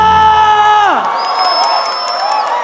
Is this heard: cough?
no